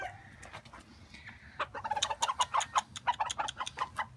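Gold Sebright chickens cluck and chatter in a rapid, excited burst of calls nearby, rising after a quieter start.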